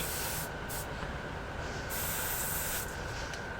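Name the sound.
spray painting black primer on miniature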